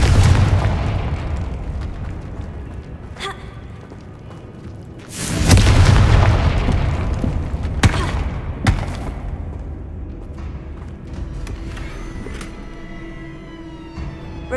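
Confringo spell blasts in the video game Hogwarts Legacy, a loud deep boom with a long rumbling tail in the middle, plus a few sharper impacts before and after over a low game ambience.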